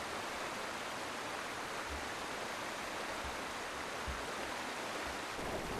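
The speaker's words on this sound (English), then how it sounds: "The torrent charges through the narrow gorges of the ranges, eroding the land." Floodwater torrent rushing through riverbeds and narrow gorges in the Australian ranges, a continuous broadband roar with no pauses and faint low thuds underneath, steady and enveloping.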